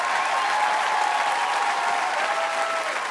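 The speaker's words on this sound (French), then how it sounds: "On peut applaudir Laurie et Nicolas Fraissinet." Dense, steady applause from a television studio audience, an even roar of clapping heard throughout without a break.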